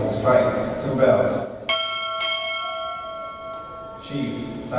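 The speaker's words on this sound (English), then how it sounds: "Time order. Strike." Two quick rings of a ship's bell mark an arrival at a Navy chief petty officer pinning ceremony, clear metallic strikes with a lingering decay, set between stretches of a voice before and after.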